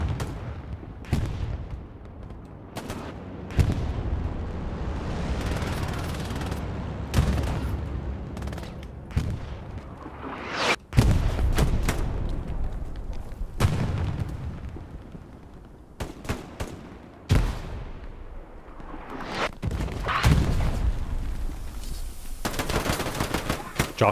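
Artillery shells and rapid gunfire crash through a large 49-versus-49 battle at Carentan in the WWII shooter Hell Let Loose, with repeated sharp booms and bursts of machine-gun fire over a constant rumbling din.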